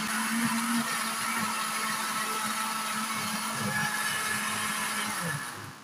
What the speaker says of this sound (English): you're going to blend this until it's a smooth paste